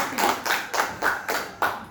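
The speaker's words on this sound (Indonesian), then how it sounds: "tepuk tangan sekali lagi bagi kita semua." An audience claps at a physical-education teacher training session in North Jakarta. About six evenly spaced bursts of applause come in a steady rhythm, with no talking.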